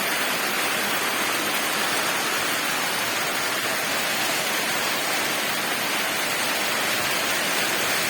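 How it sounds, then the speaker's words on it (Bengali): Heavy rain pours down in Kalapara, Patuakhali, making a dense, steady hiss that stays loud and even from start to finish, with no voices. "আজকে বৃষ্টি এইমাত্র নামলো"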